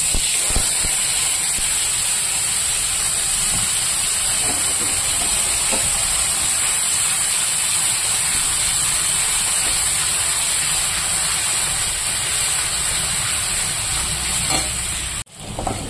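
Spice paste of cumin, bay leaf and dried chilli frying in hot oil for an egg curry, a steady close sizzle and hiss with occasional stirring scrapes, no talk, cutting off abruptly near the end.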